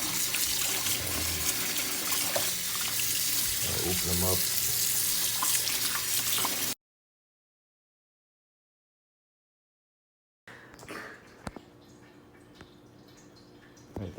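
Warm tap water runs into a sink to soak dried mushrooms, a steady close splash and trickle with a few drips, broken by a silent gap before quieter handling noises; a voice speaks briefly.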